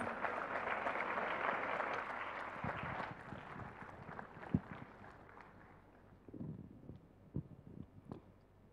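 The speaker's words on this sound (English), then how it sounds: "A big round of applause for the jury, please" A crowd at the Solar Decathlon India 2023 finals awards gives the jury a round of applause, a faint, distant clatter of clapping that fades over several seconds into scattered, isolated claps.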